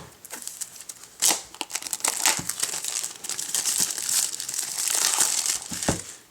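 Plastic wrap on an Apple TV (2nd generation) box is cut and torn away, giving close, crisp crinkling and rustling in uneven bursts.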